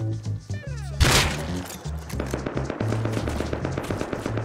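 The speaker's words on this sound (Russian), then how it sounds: "По мне стреляют все." Automatic gunfire crackles in the survival game Rust, with a sharp loud blast early on, then a rapid, steady run of shots.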